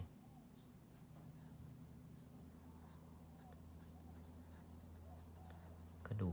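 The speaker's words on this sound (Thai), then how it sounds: "เดี๋ยวขอแยกเขียนไปด้วยเนาะจะได้รู้ว่ามันชื่ออะไร" Quiet scratching of a pen or marker writing labels during an anatomy lesson on arm and hand bones, soft and continuous under a low background hum, ending with a brief louder knock.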